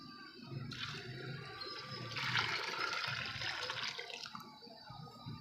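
About 2 to 2.5 liters of water pours steadily into a pot of lentils for haleem, a broad splashing rush that swells midway and then eases off, with no talking.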